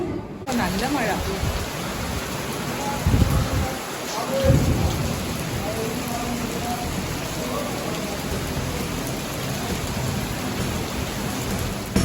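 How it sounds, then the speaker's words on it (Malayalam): Heavy rain pours at a television serial shooting location in Thiruvananthapuram as a dense, steady hiss, broken by a deep roll of thunder near the middle, with a voice faintly present under the downpour. "നല്ല മഴ."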